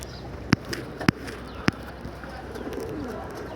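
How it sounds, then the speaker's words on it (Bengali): A pigeon in a sky-pigeon loft, recovering from illness, coos softly and low in the background, with three sharp, evenly spaced clicks standing out nearby. "টাল কবুতরটা কীভাবে ডাকতেছে"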